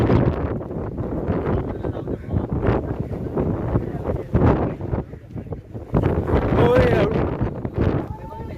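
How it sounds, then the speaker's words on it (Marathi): Heavy wind buffets the microphone in rough gusts on the Kalavantin Durg and Prabalgad trek, with people talking throughout. "वारा खूप आहे इकडे"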